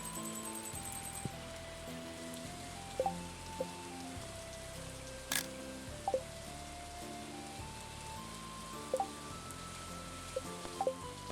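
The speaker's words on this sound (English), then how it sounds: "Double rain sound." Steady, soft rain patters on a surface, with faint tonal chimes and a few brief clicks layered over the continuous wash.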